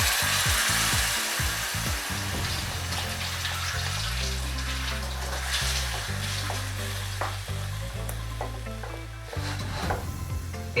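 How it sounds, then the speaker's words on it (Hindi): Ground tomatoes tipped into onions frying in a pan for Mumbai-style pav bhaji, giving a loud, continuous sizzle with stirring scrapes and spatula knocks, close up throughout with no talking. "अब हम इसमें पिसे हुए टमाटर डालेंगे।"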